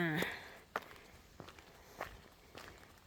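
Footsteps on a walk along a river past old brick houses, faint single steps falling at a slow, even pace about every half second after a brief voice at the start.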